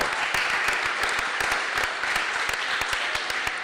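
Conference audience applause during concluding remarks: sustained, fairly close clapping with many distinct individual hand claps forming an irregular patter at steady volume.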